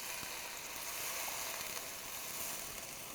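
Wine hits a hot pan while cooking clam sauce, giving a steady, bright sizzle that hisses evenly throughout without pause.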